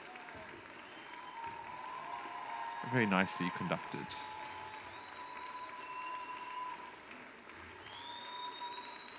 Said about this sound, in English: taking a well-deserved applause and bow.